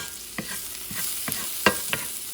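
Red peppers sizzle in a pan for peppered shrimp with noodles, a steady soft frying hiss broken by several brief stirring scrapes, close-up, with no voices.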